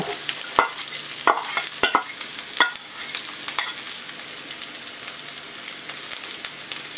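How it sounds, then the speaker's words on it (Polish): Onion sizzles steadily in a hot pan while a utensil scrapes and stirs it with occasional clicks, close up and with no voices. "i smażymy do zmiękczenia cebulki"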